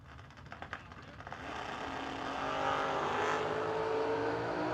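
At a memorial drag race, a Chevrolet Vega and an S10 Roadster launch from the line, the engine roar swelling from a faint rumble into a loud, sustained rising drone somewhat in the distance.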